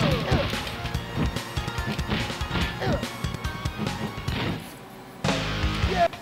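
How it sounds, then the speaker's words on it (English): Repeated hard smashing hits land as a skateboard strikes fighters in the Sega Saturn game Fighters Megamix, a fast series of loud crashes and thwacks over busy game music, with a heavier impact near the end. "just smashing someone back with a skateboard"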